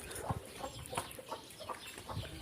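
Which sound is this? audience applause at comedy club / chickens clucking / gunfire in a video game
chickens clucking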